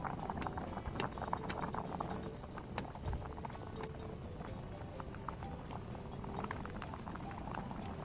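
Water with kelp and a spoonful of soy sauce boils in a pot for Korean stew, a soft, steady bubbling and popping at low volume with no voices.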